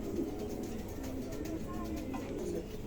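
King pigeons coo in low, repeated throaty calls against a steady background hum, close and moderately loud throughout.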